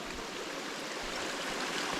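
Western Creek in the Border Ranges flowing over rocks, a steady broad rushing wash of water, close and even, with no voices.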